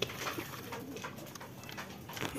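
Jalali pigeons on a house rooftop give soft, low cooing calls over quiet background noise, fairly faint and without speech.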